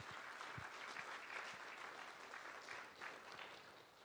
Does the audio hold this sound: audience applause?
yes